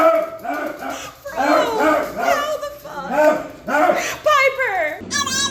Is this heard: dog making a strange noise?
yes